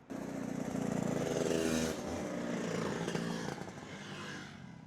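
At an outdoor scooter rally, a group of motor scooters rides past, their buzzing two-stroke engines swelling loud and close, then fading as the last stragglers pass by.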